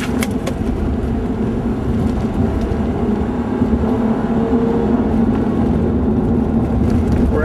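A car coasting off the throttle at just under 50 mph up an incline, giving a steady, loud road and tyre rumble with low engine hum that holds evenly throughout.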